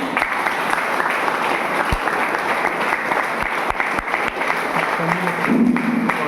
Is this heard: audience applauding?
yes